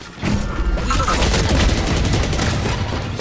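Explosive blasts and heavy gunfire in a shooter video game, with dense, loud rumbling booms and crackling shots running continuously from start to finish.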